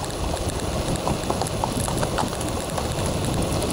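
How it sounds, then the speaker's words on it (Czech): A horse clip-clops along a trail in the Pustý žleb gorge, heard from an e-bike passing by, with the hoofbeats steady amid continuous rough outdoor noise. "Hele, podívejte se, kůň, je to tady"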